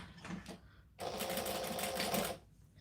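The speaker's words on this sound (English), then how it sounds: "So I'm just going to stitch all 3 layers together at the same time." A sewing machine runs steadily for about a second and a half, stitching three layers of fabric for a small backpack, with quieter handling sounds before and after.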